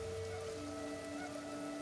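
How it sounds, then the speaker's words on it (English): Steady rain falling in the video game Kenshi, a soft continuous hiss under faint sustained tonal music or ambience, quiet and even throughout. "It's not acid rain this time."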